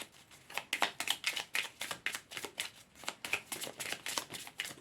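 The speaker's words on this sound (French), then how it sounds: "je vais tirer les cartes du I-King" I Ching oracle cards are shuffled in steady, rapid rhythmic bursts, a close, soft flutter of card edges repeating evenly throughout with no voices.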